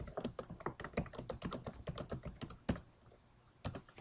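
Search words are typed on a computer keyboard, fast close key taps in quick irregular bursts, pausing briefly before a final couple of strokes.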